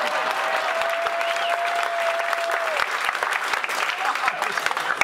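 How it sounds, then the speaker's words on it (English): An audience claps steadily throughout, a dense patter of applause with a little crowd noise mixed in. "You can applaud for that if you'd like."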